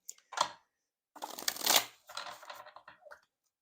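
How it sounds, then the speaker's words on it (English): Tarot cards being shuffled by hand in several quick riffling bursts, close and crisp, with short pauses between shuffles and no talking. "Okay, one more shuffle."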